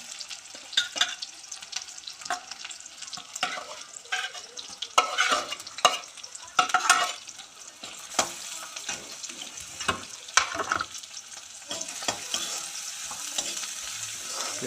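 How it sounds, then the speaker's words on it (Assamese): Onions frying in a pan for an Assamese duck meat dish, a steady sizzle running under clattering stirring and scraping, with bursts of louder utensil activity and a washing sound toward the end. "এয়া পিঁয়াজ ভাজি থকা হৈছে"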